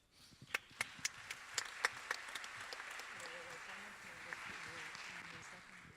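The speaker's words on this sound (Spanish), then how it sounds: "les pido también un fuerte aplauso a nuestro querido Luis Gonzaga Mota" A panel audience at the ALAIC 40th-anniversary session applauds Luis Gonzaga Mota. A few separate claps ring out first, then build into soft, continuous applause that stays fairly faint throughout.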